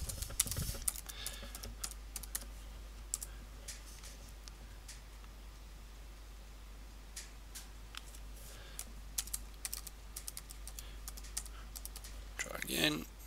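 Quiet keystrokes tap out a password on a keyboard, a scattered series of light clicks over a low hum, with a brief louder rustle near the end.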